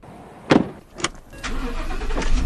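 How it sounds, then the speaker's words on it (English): Interior of a moving car on a city inspection ride-along, with a steady engine and road rumble underneath and a few brief louder bumps or knocks standing out, no one talking. "I am currently in the car with Mr. Reggie Harris"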